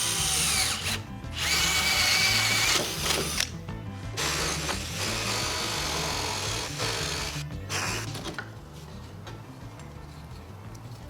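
A power drill or cutting tool bores an entry hole through plywood for a Cessna 172 instrument panel support, loud and continuous with brief pauses and shifts in pitch as the bit works through the wood.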